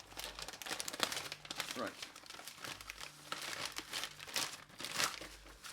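Plastic packaging from a home brew supply kit, with ale yeast, carbons and finings, crinkles and crackles in irregular, close handling bursts while someone talks over the rustling.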